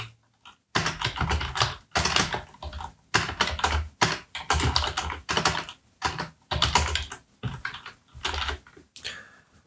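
Rapid typing on a computer keyboard, loud and close, in dense bursts of keystrokes separated by short pauses, with no voices.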